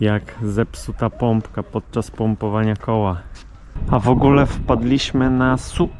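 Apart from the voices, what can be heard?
None of the usual background noises is heard.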